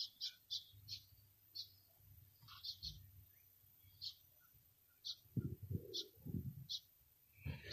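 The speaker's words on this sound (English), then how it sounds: "I don't know if you guys can hear the birds" Birds chirp in a park in short high bright calls repeated at uneven intervals, fairly faint, over a low rumble with a burst of low noise near the end.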